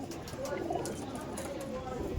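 Soft coos of Malbai pigeons repeat under a steady murmur of background noise and muffled voices.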